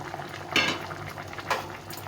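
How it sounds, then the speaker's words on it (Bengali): Fish curry broth made with small river fish and vegetables bubbles at a steady boil in a pot, with two brief utensil clinks against the pot. "ঝোলটা ভালোভাবে ফুটে গেছে"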